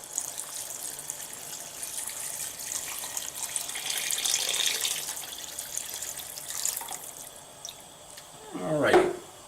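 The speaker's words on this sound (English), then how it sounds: "And we're going to add our chicken stock." Chicken stock pours and splashes steadily into a pot of Italian sausage and cabbage stew, a soft liquid trickle rising and falling, ending in a brief louder splash.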